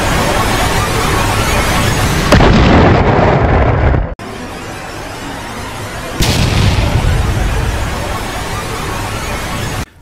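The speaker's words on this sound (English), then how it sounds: "The worst thing in aviation happened, the mid-air collision." Explosion effect for a mid-air collision between two aircraft: a loud, dense roaring blast that rises sharply twice, breaks off suddenly between them, and fills the foreground.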